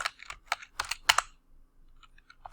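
Keystrokes on a computer keyboard: quick clusters of close, crisp clicks, a short pause, then a few lighter taps.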